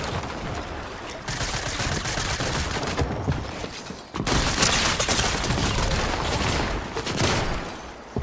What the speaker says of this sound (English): Spamming me from 3 different angles. All with SMGs and pistols.